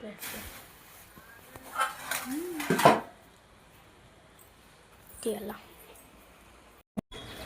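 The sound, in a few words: mother mixing biryani ingredients in a pot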